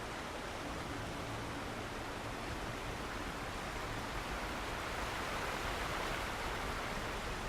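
Steady, broadband rush of flowing river water in the video game Alan Wake, a constant wash heard alone with no voices.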